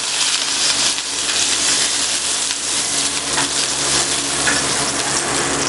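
Ingredients sauté in a hot pan for Tausug pastil, giving a loud, continuous hiss of frying with faint stirring underneath and no talking.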